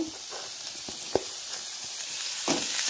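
Boiled cauliflower sautéing in a pan, a steady close hiss of frying with faint scraping stirs and a few small knocks, no speech.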